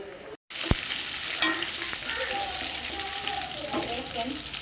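Mutton keema frying in a pan, a steady close sizzle with occasional stirring scrapes after a brief pause at the start.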